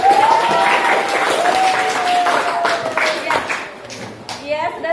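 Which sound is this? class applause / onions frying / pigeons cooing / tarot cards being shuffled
class applause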